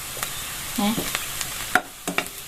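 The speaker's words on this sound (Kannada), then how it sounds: "ಓಕೆ ಈರುಳ್ಳಿ ಫ್ರೈ ಆಂಡ್" Onions frying in a pan, a gentle hissing sizzle broken by a few sharp scraping stirs and light metallic clinks, close and quiet, no voices.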